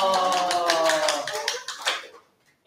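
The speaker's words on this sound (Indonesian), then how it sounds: "Tepuk tangan buat kalian semua." A classroom of students gives a short round of clapping, the patter of hands running under a sustained tone before fading into quiet.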